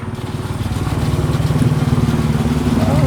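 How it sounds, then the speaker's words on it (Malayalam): An electric farm water pump motor with an automatic control panel is switched on by hand, and a close mechanical hum with a rapid pulsing rattle steadily builds in loudness. "ഇപ്പോൾ ഇവിടെ ഞാൻ ഈ മോട്ടോർ ഓൺ ചെയ്യാം മാനുവലായിട്ട്."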